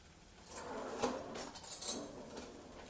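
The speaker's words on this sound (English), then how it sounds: "since I have the hummus here, is scoop some out into the bowl" Hummus scooped from a container into a serving bowl, with a few clinks and scrapes of a utensil against dishware, the loudest near the middle, close and fairly quiet.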